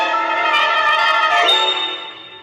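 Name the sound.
small silver bell rung three times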